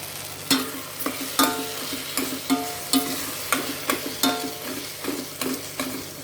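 Curry being stirred in a pan right after a spoonful of chili powder goes in, with a spoon scraping in repeated rhythmic strokes over a soft sizzle, close and steady with no talking.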